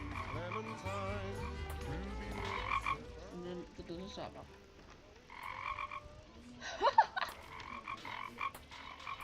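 Repeated croaking frog sounds from a Roblox game, bursts of nasal ribbity calls coming in quick runs with short gaps, over faint game background and a brief spoken word.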